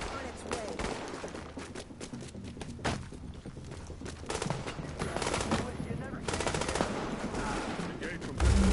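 Gunfire rattles in a street patrol firefight in The Division video game, with bursts of automatic fire and scattered shots over a dense, busy background. It stays moderately distant, and voices can be heard faintly under the shooting.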